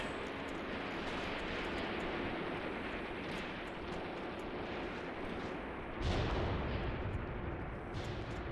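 Artillery fire in the Graviteam Tactics war game rumbles as a continuous, dense roar of distant booms, with a heavier surge partway through and no talking.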